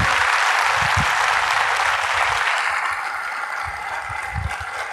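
Sustained applause from an audience at a motivational seminar, dense steady clapping filling the whole stretch, loud and close, easing slightly toward the end with a few thumps beneath.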